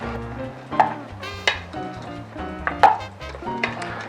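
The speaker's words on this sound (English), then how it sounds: "Then you mix this stuff all up." Chili mac and cheese ingredients with garlic are stirred in a pot, giving scraping, clinking utensil strokes and soft squelches at an irregular rhythm, heard up close with no talking.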